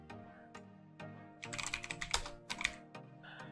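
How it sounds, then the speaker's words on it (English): Keys clatter on a computer keyboard as a search name is typed into Windows 11, starting with a few isolated taps and then a quick, close burst of clicks before trailing off. "For that, in search, type the same name."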